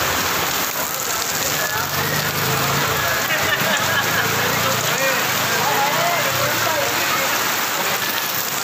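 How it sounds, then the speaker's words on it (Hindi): Heavy monsoon rain pours steadily throughout in Saeedabad, Baldia Town, Karachi, a dense, loud hiss of drops striking surfaces and standing water, with faint voices murmuring underneath. "बहुत ज़बरदस्त बारिश हो रही है कराची शहर के अंदर"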